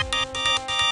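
Mobile phone ringtone for an incoming call, a bright repeating electronic melody in pulsing bursts, loud and close, with no talk over it.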